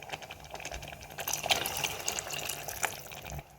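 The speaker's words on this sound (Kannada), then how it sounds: "ನೀರು ಸ್ವಲ್ಪ ಬೇಕು, ನೀರು ಹಾಕೋಬೇಕು" Water poured into a pan of aloo sagu, a soft, low-level splashing and trickling stream with a few brighter drips, starting gently and fading out at the end.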